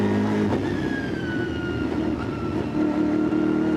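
Mercedes GT4 race car engine at a VLN endurance race on the Nürburgring, heard onboard as a loud, continuous roar with rising and falling pitch from gear changes and throttle, steady throughout with no talk.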